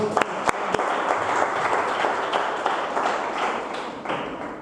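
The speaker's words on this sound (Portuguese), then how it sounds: "Dê uma salva de palmas." A church congregation applauds during a Portuguese-language Pentecostal sermon, a dense, steady wash of many hands clapping throughout, with a few sharper individual claps near the start and a faint voice or two underneath.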